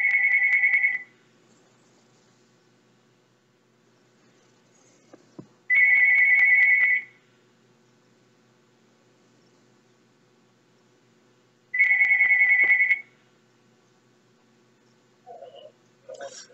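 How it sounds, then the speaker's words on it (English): A telephone rings with three separate electronic trilling bursts, each about a second long and spaced several seconds apart in a quiet room. A faint voice is heard at the very end. "The phone's ringing."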